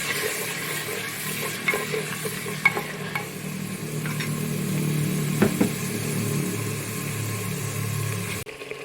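Onion paste sizzles in a clay pot while chicken handi korma is stirred, a steady close frying hiss broken by scraping and clinking strokes of the spoon, with no talk.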